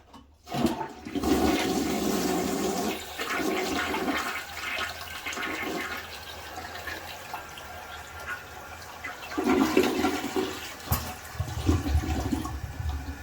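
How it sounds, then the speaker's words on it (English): A toilet flushes close by, with a rushing swirl of water that drains and then gives way to the gurgle and hiss of the tank refilling, with no talk. "little flush."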